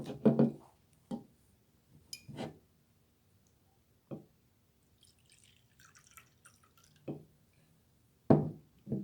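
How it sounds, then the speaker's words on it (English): Liquid trickles into a communion cup at a Maundy Thursday service, heard as sparse, separate drips and small splashes spaced a second or two apart, close up in an otherwise quiet room. "A cup was poured."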